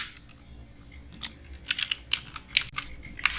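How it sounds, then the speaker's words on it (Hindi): Windows+R shortcut and other keys typed on a computer keyboard during a live computer class, a string of crisp, close plastic clicks in an irregular rhythm, some louder taps standing out over a quiet room hum. "कीबोर्ड से स्टार्ट करने के लिए विंडो प्लस आर, विंडो के साथ आर टाइप करेंगे"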